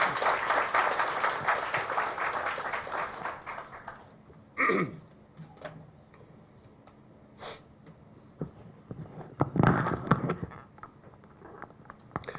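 Audience applause at a lecture during a prayer meeting for peaceful North-South unification, welcoming a speaker: a dense, loud burst of many clapping hands for about four seconds, then fading out to a few scattered claps and small room noises.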